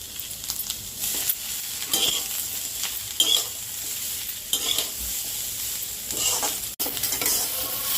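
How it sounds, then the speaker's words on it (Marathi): Half an onion frying and being stirred in hot oil in a pan, a steady close sizzle with repeated scraping strokes and a sharp clink of the utensil near the end, no voices. "आता हा अर्धा कांदा आपण फ्राय करून घेणार आहोत."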